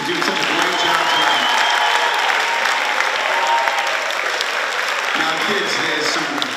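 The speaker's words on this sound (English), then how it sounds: "how about one big round of applause for all the student performers out there for doing such a great job tonight." A big round of applause for student performers at a high school jazz festival: loud, dense and continuous clapping from a large audience, sustained steadily throughout with crowd noise woven in.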